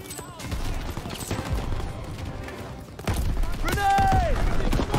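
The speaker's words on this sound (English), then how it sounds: "Everyone, open fire!" Gunfire from a Call of Duty Wii match, loud bursts of shots and thuds filling the scene, mixed with other game effects and occasional shouted voices.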